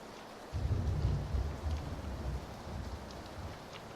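Steady rain falls in the fighting game Absolver, with a low rumbling wash that swells after the first half second and then holds as a constant, fairly loud hiss.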